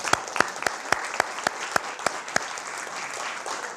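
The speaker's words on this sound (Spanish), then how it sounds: "Un aplauso al Señor." An audience claps in praise of the Lord, the claps locking into a steady, evenly spaced rhythm of sharp beats over a bed of looser scattered clapping, continuing alone with no talk.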